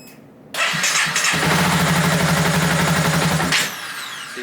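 Honda CBR250R motorcycle cranking and starting, its engine running loud and rough for about three seconds before the revs drop away as it dies on throttle, recorded close with no talk.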